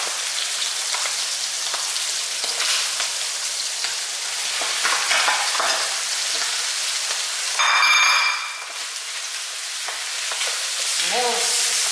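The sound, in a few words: white rice frying in a pan for squid fried rice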